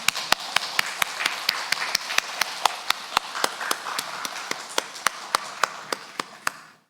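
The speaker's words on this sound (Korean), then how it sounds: "우리도 또 하나님 앞에 영광의 박수 돌리겠습니다" A church congregation claps in praise at a Sunday worship service, a run of sharp, evenly spaced claps ringing through the hall before stopping abruptly.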